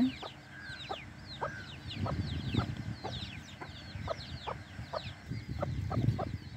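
Hens and young chicks clucking and peeping in a coop, with repeated short clucks and high chick cheeps scattered throughout at a moderate, fairly quiet level, no talking.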